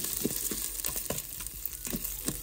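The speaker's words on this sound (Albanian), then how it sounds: "Tani, do t'i të skuqet pilafi." Rice pilaf frying in a pan, a steady sizzle broken by soft scraping stirs that come in repeated strokes, close and moderately loud with no voices.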